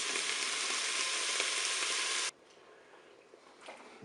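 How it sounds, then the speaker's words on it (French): Pineapple chicken sizzles loudly in the bowl of a Cookeo multicooker for about two seconds, then cuts off abruptly to a quiet hum with faint scraping. "je vais laisser revenir un petit peu pendant 1 à 2 minutes"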